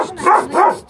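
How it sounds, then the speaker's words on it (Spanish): A small female dog gives two drawn-out, whiny barks close by, each rising and falling with a yelping, whimpering edge, in quick succession with no talking. "¿Le puede acariciar a la perrita para que se calle?"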